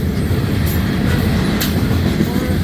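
CN freight train B790 rolls past at Ladysmith, Wisconsin, with a loud, continuous close rumble of rail cars and faint wheel clatter throughout.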